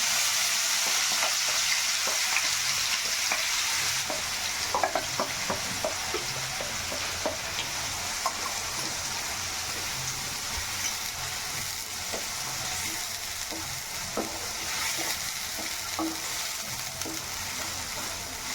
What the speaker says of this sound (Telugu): సో ఆయిల్ అయితే హీట్ ఎక్కింది. ఇప్పుడు ఆనియన్స్, కొత్తిమీర వేసేద్దాం ఇందులో.